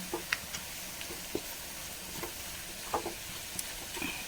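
Chilli powder mixture being stirred in a pan on a low flame, soft scraping strokes and small clicks of the spoon over a faint, steady sizzle.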